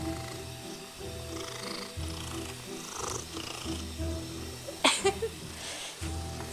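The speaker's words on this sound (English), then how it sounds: "He's purring." An orange cat purrs close by in a soft, steady rumble with a rhythmic pulse, continuing throughout with a few brief louder rustles near the end.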